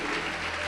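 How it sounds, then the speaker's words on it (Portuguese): A church congregation applauds during a worship service, a dense, steady wash of many hands clapping together at close range throughout the brief moment. "Pode aplaudir, adorar e glorificar."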